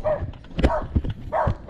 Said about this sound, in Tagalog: Gagi, daming aso.